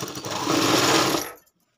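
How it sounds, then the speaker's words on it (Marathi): A sewing machine runs a steady pressing stitch on a lined katori blouse, a close, loud, even whirring burst lasting over a second before stopping abruptly into silence. "मग याच्यावर आता परत एक दाब शिलाई मारून घ्यायची."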